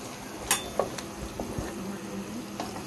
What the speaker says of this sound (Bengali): আম্মু এই দেখো কি সুন্দর করে বিরিয়ানি রান্না করছে।